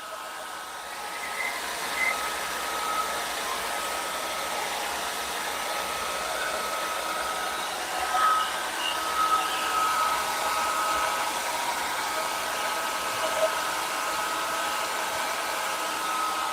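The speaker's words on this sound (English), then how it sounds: "you just put the blow dryer on it a little more" A blow dryer runs continuously while heating shrink wrap, a steady airy whir with a thin high whine held throughout, close by and uninterrupted, with no talking.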